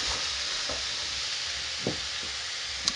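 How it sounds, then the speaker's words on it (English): Chopped vegetables sweating down in oil in a pan for paella, giving a steady, close sizzle with a few soft stirring scrapes and taps, no talking. "So veg is starting to sweat down now."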